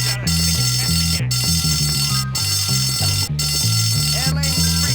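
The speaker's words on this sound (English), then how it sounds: "Someone pulled a fire alarm down and stick it again." A school fire alarm rings in the video game Bully, a loud, steady pulsing electronic tone cycling with regular breaks, with a voice talking over it.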